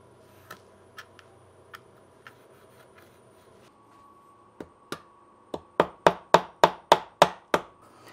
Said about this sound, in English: I'm just going to chisel this out.